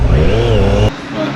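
A motorcycle engine revving at high rpm, loud and close with a steady rising drone that cuts off abruptly, leaving a quieter low rumble.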